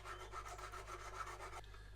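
A square-edged file rasps back and forth along the plastic plating edges of a Revell 1/144 Flower Class corvette model, quiet rhythmic strokes that stop near the end.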